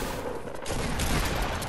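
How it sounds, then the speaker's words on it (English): Video game gunfire: a continuous, loud barrage of overlapping shots filling a brief moment, close and dense, with no voices. "Let's fire out some shots."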